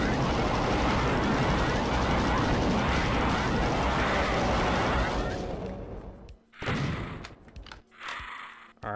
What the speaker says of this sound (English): I'm going to go ahead and just use my plasma gun for this.